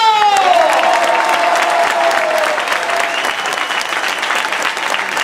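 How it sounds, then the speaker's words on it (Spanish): A crowd claps loudly and steadily for several seconds. A brief sliding tone sounds at the start. "Vamos a dar lo que yo le llamo un aplauso"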